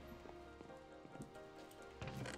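Rain in a Minecraft game world makes a quiet, even hiss of drops that swells slightly toward the end, with no voices over it.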